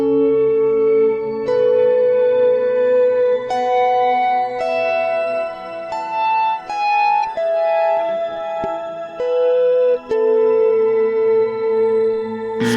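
A guitar runs through a Line 6 POD Go with its pitch shifted an octave down, playing a slow melodic line of sustained, echoing notes that ring loud and clear with no talking.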